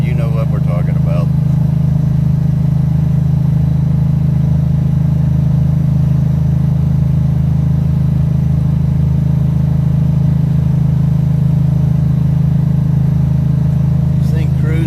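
A 1969 Pontiac with a 370 rear gear cruises on an Ohio road at a little over 3,000 RPM, heard from inside as a steady, loud, low engine drone that continues unchanged throughout.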